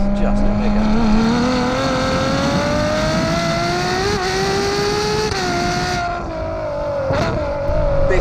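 A Ferrari 812 Superfast's 800hp V12 revs hard and steadily, its rising engine note climbing over several seconds close by with a slight lift off near the end, and a voice faintly present beneath.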